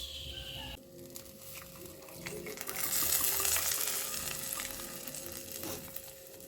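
A hot tempering is poured into a curry, letting out a sudden loud sizzle that swells and then settles into a steady crackling fry, with some stirring and a voice heard faintly.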